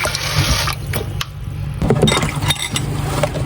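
Water runs steadily from a kitchen tap during dishwashing, with small clinks of dishes and glass breaking through the continuous splashing.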